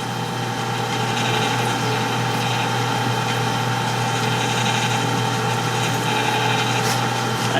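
A mini excavator engine drones steadily and loudly throughout while digging, with a constant mechanical hum and rattling vibration, no pauses or voices.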